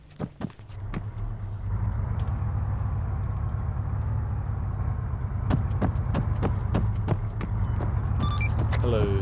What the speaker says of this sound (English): A friendly vehicle going downhill.